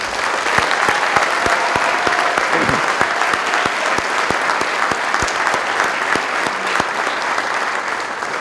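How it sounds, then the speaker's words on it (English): A school auditorium audience gives sustained, even applause for athletics hall of fame inductees, with individual claps standing out close by over a dense wash of clapping. "let's give all these inductees a big round of applause"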